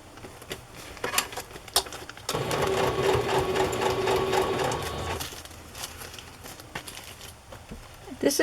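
A sewing machine runs a basting stitch along a placemat in one steady, close mechanical whir lasting about three seconds, with handling clicks and rustles before and after.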